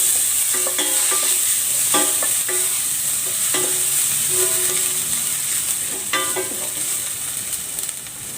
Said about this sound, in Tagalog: Lalagay ako ng cooking oil. Igigisa ko na tong bawang.